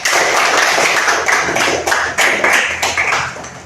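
Students in a classroom clapping together, loud close-up rhythmic claps in fairly regular bursts that run throughout.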